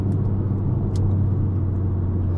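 A Volvo XC90 T8 hybrid SUV, a two-tonne family seven-seater, drones with steady loud engine and road rumble while racing a Golf GTI, heard from inside without talk.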